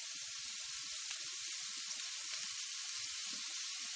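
Squash sizzling in a pan on a camp stove while pineapple couscous cooks outdoors, a steady close hiss of frying that runs evenly throughout, with faint low knocks and no speech.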